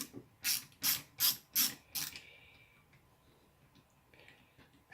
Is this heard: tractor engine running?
no